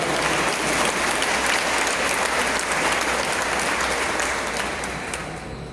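A church congregation applauds at a sermon, with dense, sustained clapping across the whole stretch that fades slightly toward the end.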